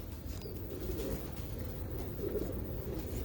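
Pigeon cooing close by, soft low throaty coos rising and falling twice over a faint background murmur, no talking heard.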